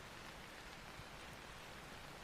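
Rain falls outside in Tokyo as a dense, even hiss, steady and soft throughout with no voices.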